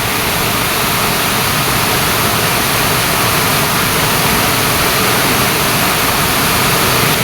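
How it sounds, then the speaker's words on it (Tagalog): Flowing water rushes loudly and continuously near a mountain waterfall, a dense broadband hiss that stays steady and close for the whole stretch. "Maririnig niyo yung tubig? Yung agos ng tubig."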